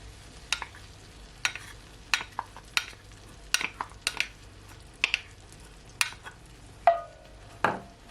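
Hot sauce being stirred into melted butter in a pan over medium heat, with a soft sizzle beneath repeated sharp clinks and scrapes of the utensil against the pan, roughly one every half second.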